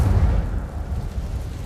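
Incendio fire spell cast in Hogwarts Legacy: a continuous low, rumbling whoosh of flame that sustains loudly throughout and tapers only slightly.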